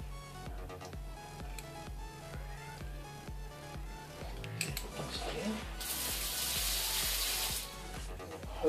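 Rose Kuli smart kitchen scissors, a multi-tool, are rinsed under running water. Soft clicks and handling come first, then a loud, steady hiss of water near the end.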